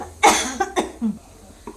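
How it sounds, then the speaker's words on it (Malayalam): Sharp coughing fit from someone cooking with black pepper for a squid curry, several harsh close coughs in quick bursts followed by a few softer throat-clearing coughs. "കുരുമുളക് ഇട്ടിട്ടുണ്ട്. ചുമ വന്നാ."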